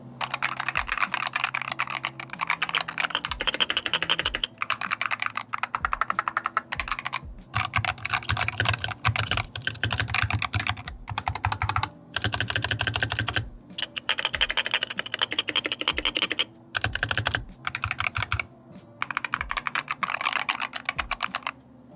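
Rapid typing on a Razer Huntsman Signature Edition mechanical keyboard, close and crisp, with steady clicky keystrokes in bursts separated by brief pauses.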